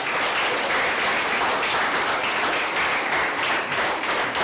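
Sustained audience applause in a small Budapest bistro at the end of a solo performance evening, a steady close wash of many hands clapping without pause.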